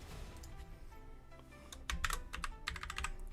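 Fingers tap on a computer keyboard close by, with a few scattered keystrokes at first, then a quicker burst of clicky typing in the second half.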